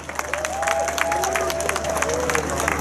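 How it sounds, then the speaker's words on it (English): Applause and cheering for the president at the Sevan Startup Summit 2018, a crowd clapping steadily, with a voice or whistle sliding over the clapping and a low hum beneath. "Big applause to Mr."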